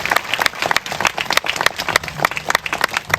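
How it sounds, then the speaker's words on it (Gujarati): A church congregation at a women's meeting claps to welcome a speaker, with dense, lively applause from a crowd filling the room close by and holding steady throughout. "આપણે તાળીઓથી તેમનું સ્વાગત કરીએ"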